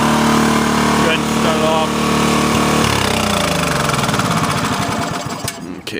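A Toro Power Clear 518 ZE snowblower engine runs steadily and loudly up close with its auger turning, then winds down as it is shut off near the end.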